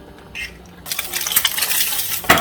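An egg dropped into a pan of hot oil: after a quiet second, a bright crackling sizzle bursts in and continues, ending with a brief clink of utensil against the pan.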